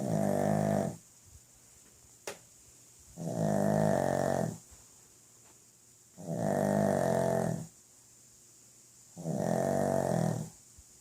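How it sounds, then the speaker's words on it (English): Molly the dog snoring in deep sleep: four slow, long, rumbling inhales spaced a few seconds apart, close and fairly quiet, with near-silence between breaths. "you're making so much noises. Yet you're snoring."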